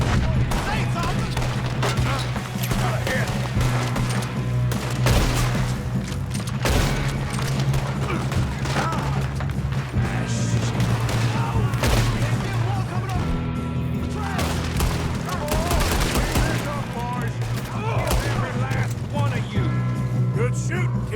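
Shootout in the Red Dead Redemption 2 video game, with dense, loud bursts of gunfire and sharp impacts throughout, mixed with shouting voices and mechanical clatter over a steady low hum.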